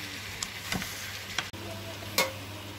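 Vegetables being stirred and mixed in a frying pan for noodles, giving a soft steady sizzle broken by a few sharp utensil scrapes and clacks against the pan, with no talking.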